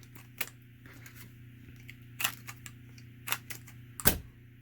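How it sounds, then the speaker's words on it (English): A corner rounder trims the corners of paper journal cards, making a few faint, crisp clicks and snips spaced irregularly in a quiet room, with no voices. "I'm going to trim or round the corners off on the tops."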